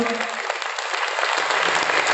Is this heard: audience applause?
yes